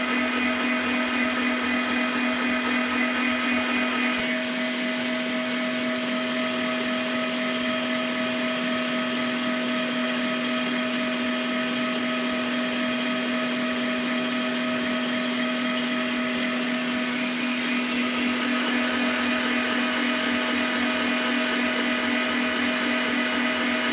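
An electric mixer whirs steadily as it beats cake batter for a chocolate pot-cake filling, a continuous loud motor drone that dips slightly partway through and then carries on alone without talk.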